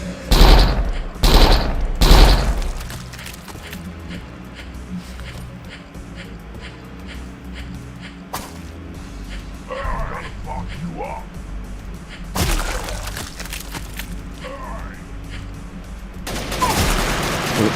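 Gunfire in a zombie video game: several sharp, loud shots crack early on, followed by scattered distant pops and a couple of heavier bursts later, with game ambience throughout.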